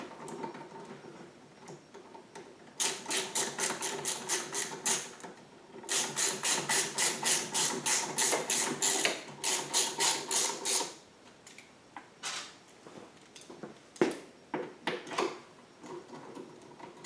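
A ratchet clicks in rapid bursts as bolts are fitted and tightened on a Pulsar PGD95BiSCO generator's extended run time fuel kit. The clicking comes up close in several long runs separated by pauses, then trails off into a few short, scattered clicks.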